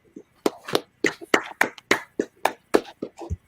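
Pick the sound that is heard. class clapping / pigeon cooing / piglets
class clapping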